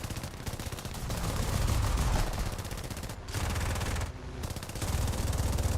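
Rapid gunfire from a video game shooter, sustained, dense automatic bursts that roll on for several seconds with two brief breaks, loud and close, with no voices.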